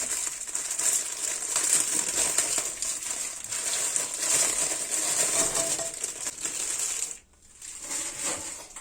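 Ladyfinger biscuits tumble out of their packets for a layer cake, a steady rustling, crinkling clatter close by with a short pause near the end.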